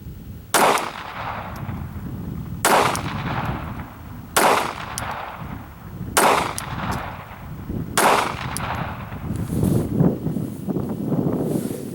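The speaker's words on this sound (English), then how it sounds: "we'll get a few more shots off here, see how we do" Glock 42 pistol fired at an outdoor range: five loud, evenly spaced single shots about two seconds apart, each with a short echoing tail, over steady wind noise.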